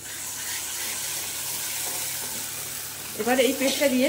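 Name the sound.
spice paste being fried and stirred for katla fish curry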